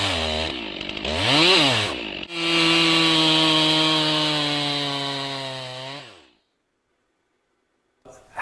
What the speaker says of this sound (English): How should the chainsaw run?